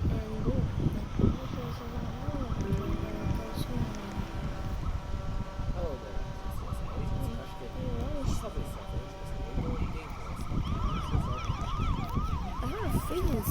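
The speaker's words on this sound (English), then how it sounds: "I heard a freaking sound of police cars." Police car sirens wailing in rising and falling sweeps outside a New York City subway station, steady and fairly close, blended with traffic rumble and a busy street backdrop.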